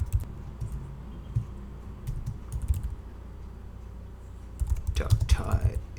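Computer keyboard typing while writing HTML boilerplate for a WordPress theme file, with soft scattered key clicks through the clip, a denser burst near the end, and low background noise.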